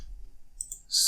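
Computer mouse clicks while working in Blender on a 3D model of a modern ground-floor building, a faint low hum under the first part and then a sharp, close click at the end.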